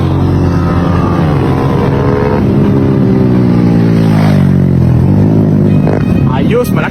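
Stock Dash 110 superstock motorcycle makes a loud, sustained engine pass with rising and falling revs lasting several seconds, with voices talking over it throughout.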